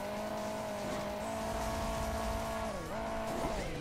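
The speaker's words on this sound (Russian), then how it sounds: "Он сзади подгазовывает." A vehicle engine revving from behind in Hill Climb Racing 2, a steady droning tone that holds level, then dips and climbs again as the throttle is worked, loud and continuous.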